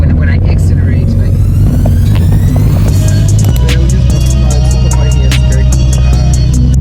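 A VW Polo Playa engine revs and accelerates with a loud, close rumbling drone that shifts pitch partway through, carried over broad road and cabin noise.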